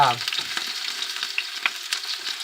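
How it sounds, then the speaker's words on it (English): Shrimp fry in hot vegetable oil in a pan for lo mein, a steady close sizzle with a few brief pops and crackles and no speech. "I'm going to be adding shrimp to this. I added oil to this."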